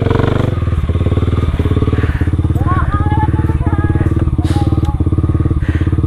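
A motorcycle engine runs on a mountain hiking trail toward the summit of Puncak Upas on Gunung Tangkuban Parahu, a close, loud, steady idle with throbbing pulses and some clattering, while people talk over it.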